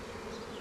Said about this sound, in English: these bees were extremely heavy